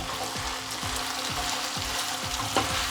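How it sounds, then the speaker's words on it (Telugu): Pepper chicken frying in hot oil, a steady dense sizzle holding at an even level, with a few soft stirring knocks at regular intervals and no voices. "ఆయిల్లోనే చికెన్ బాగా ఉడికిపోవాలండి."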